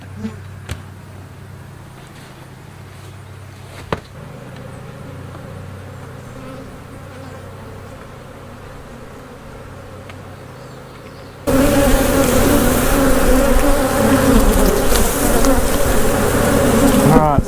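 A dense, steady drone of honey bees swarms around an opened beehive during honey harvesting, heard close and continuous, then swelling noticeably louder partway through as the bees stir.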